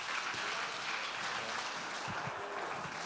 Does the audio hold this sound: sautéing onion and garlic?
no